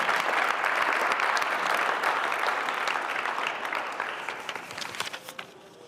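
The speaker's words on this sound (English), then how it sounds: "Let's give Zach a round of applause." A crowd gives a high school signing-day athlete a round of applause, with loud, dense clapping that tapers and thins out near the end into scattered claps.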